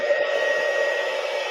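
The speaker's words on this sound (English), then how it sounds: "It's like an overheat rated blow dryer." A heat gun being used to soften a plastic bump runs with a steady, loud whooshing whine like an overheated hair dryer, continuous and alone.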